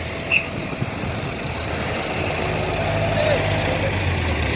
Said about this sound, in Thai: รถไถค่ะมาย้ายผัก